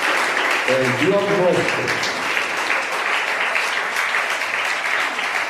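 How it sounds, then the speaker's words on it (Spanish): A church congregation applauds in praise of God, with sustained dense clapping throughout and a voice speaking briefly near the start. "Démosle un aplauso a ese Dios maravilloso."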